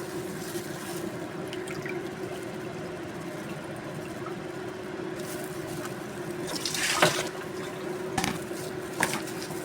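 Water drains from freshly washed cabbage in a kitchen sink for a coleslaw, a steady running trickle with a few louder splashes and clatters toward the end.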